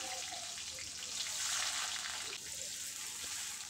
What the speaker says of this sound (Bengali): পেঁয়াজটা বেশ লাল লাল করে ভেজে নেব